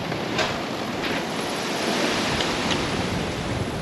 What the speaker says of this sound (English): The start is very windy.